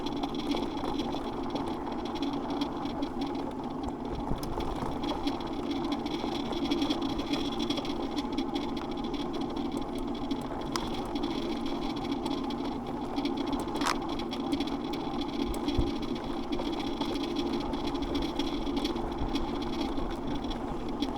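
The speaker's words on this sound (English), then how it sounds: "This bike's front motor is a little louder than some," A Falcon electric bike's front hub motor hums with a steady mid-pitched whine while riding along a road edge, continuous and fairly loud under road noise.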